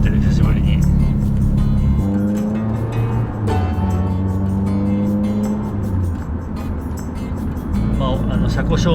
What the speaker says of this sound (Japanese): シルビア乗ってる、久しぶりに。